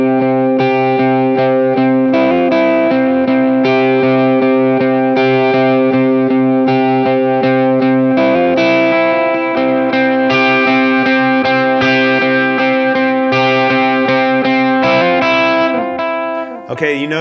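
Electric guitar on the bridge pickup plays the chords of a worship song through chorus and effects, a bright, sustained and continuous strum, loud and close, with no talking over it.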